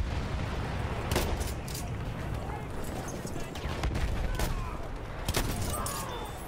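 Grenade explosions and gunfire in the Battlefield 1 shooter game, with several sharp blasts and bursts of shots over a constant rumbling battle din, under a talking player.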